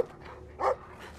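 A dog in the video game Brothers: A Tale of Two Sons gives one short, mid-loud bark, standing alone against quiet game ambience.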